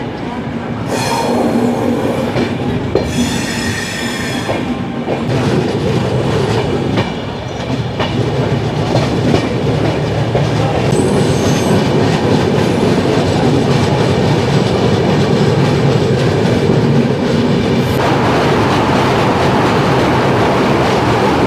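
Inside a coach of the Sapt Kranti Superfast Express, a loud steady rumble of the moving train fills everything, with rhythmic wheel clatter and brief squeals; faint voices sit beneath the din.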